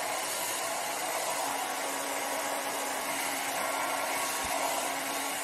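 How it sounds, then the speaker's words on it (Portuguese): A hair dryer on a hot setting blows steadily and loudly onto short curly hair, a continuous broadband whoosh with no talking. "se você bater o secador demais"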